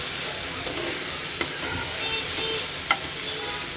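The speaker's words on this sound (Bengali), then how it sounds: "আমি শাকগুলো একটু ভেজে নিব" Kalmi greens (water spinach) fry in a pan with a steady, close sizzle while being stirred, with a few light scrapes of the utensil against the pan and no talking.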